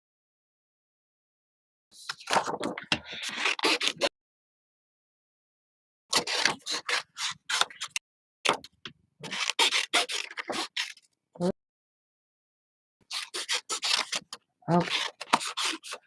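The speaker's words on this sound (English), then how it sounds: "I'm gonna cut them out." Scissors cut out paper pieces in several separate bursts of close, scratchy snipping and rubbing, with quiet gaps between them and a brief spoken word.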